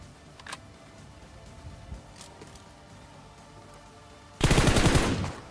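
A single loud, sharp Kar98 sniper rifle shot, a headshot in the PUBG video game, cracks near the end after quiet in-game ambience with faint clicks.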